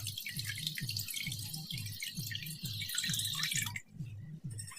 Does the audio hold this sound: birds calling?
no